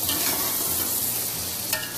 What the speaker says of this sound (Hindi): चने के साथ हम इसे अच्छा सा भून लेते हैं